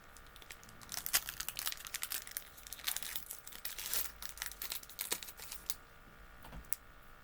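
A Magic: The Gathering March of the Machines booster pack is torn open, with close, quiet crinkling and tearing of foil wrapper in uneven bursts, alone.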